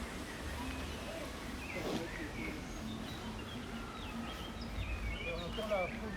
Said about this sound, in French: On entend la fauvette à tête noire qui a un chant très futé.